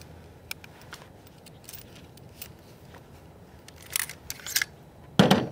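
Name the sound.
removing the upper and bolt carrier from an AR-15 rifle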